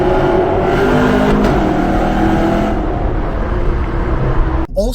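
Chevrolet Camaro SS engine while driving through a tunnel, a loud steady rumbling drone with a smooth whirring hum, echoing and enclosed, easing slightly before a brief cut near the end.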